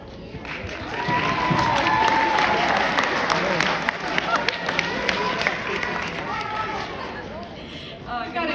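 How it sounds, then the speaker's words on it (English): A school audience in a high school gathering claps and cheers steadily for several seconds, a broad crowd roar with scattered claps, while someone speaks. "We've got a cheering section up there"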